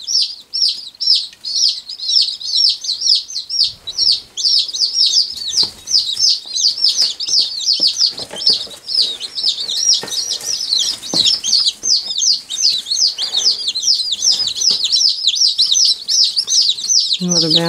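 Tiny bantam baby chicks chirp nonstop, close by, as a busy chorus of high, thin peeps with no break.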